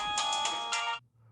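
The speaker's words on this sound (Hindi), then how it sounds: "किसका फोन आ गया?" A phone ringtone in a Hindi-dubbed action film rings loud and close for about a second, with bright pulsing tones that stop abruptly and give way to a faint low hum.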